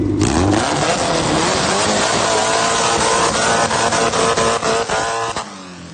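A loud car engine roars and revs hard up close, aggressive and raspy, with sharp throttle blips before it cuts off near the end.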